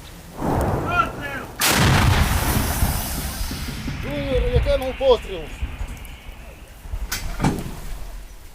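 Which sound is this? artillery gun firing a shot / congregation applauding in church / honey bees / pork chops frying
artillery gun firing a shot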